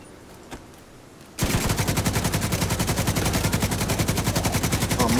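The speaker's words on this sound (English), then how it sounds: "Let's try this RPK out" An RPK light machine gun fitted with a red dot sight fires in The Division 2, opening abruptly after a quiet moment into a long, loud sustained burst of rapid, evenly spaced shots that continues to the end.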